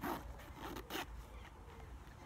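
A backpack zipper pulled open in a quick rasping burst, followed by a second short zip, close and fairly loud in a quiet room.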